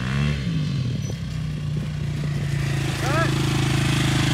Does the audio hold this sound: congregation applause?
no